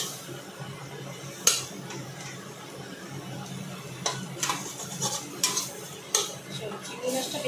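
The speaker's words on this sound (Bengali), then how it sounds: "এবার চিংড়ি মাছটা ভেজে নেবো" Prawns fry in a pan with a steady broadband sizzle, punctuated by sharp utensil clinks and scrapes against the pan at irregular intervals, close by.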